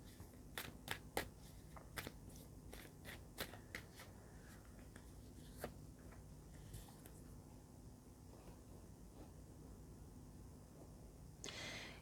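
Animal spirit cards are shuffled quietly in a handful of sharp flicks and soft riffles early on, then trail off into a faint, hushed room background with one more brief rustle at the end.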